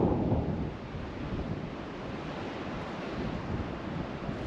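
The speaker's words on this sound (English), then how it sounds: "Hear the water in the distance." Steady outdoor wash of distant moving water mixed with breeze and wind buffeting the microphone, a broad continuous rush with no voices, heard while hiking alone in rugged terrain.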